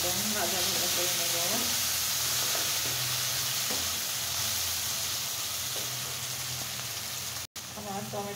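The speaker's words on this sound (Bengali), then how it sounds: "এখন আমি টমেটোটাকে খুব সুন্দর করে একদম ভাজা ভাজা করে নেব" Three chopped tomatoes sizzling steadily in hot oil in a pan for potato chicken kosha, with close stirring scrapes and spatula clinks over the continuous frying hiss.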